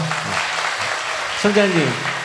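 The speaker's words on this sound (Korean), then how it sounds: "우리 뜨거운 박수로 다시 한번." An audience at a church seminar applauds with a dense, steady patter of clapping, and a voice speaks over it partway through.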